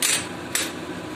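Ginger and garlic sizzle in a hot pan as they are stirred, a steady close hiss broken by a short scraping knock of the utensil against the pan.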